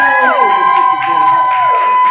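Audience at a live interview event with a giveaway, cheering and whooping loudly and steadily through the whole moment, with a sustained tone and excited shouts riding on top of the crowd noise.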